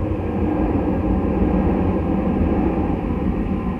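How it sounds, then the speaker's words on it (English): A street tram passing directly overhead, a loud continuous rumble and roar of wheels and structure that holds steady throughout, near and dominant with no talk. "Got another tram going over my head"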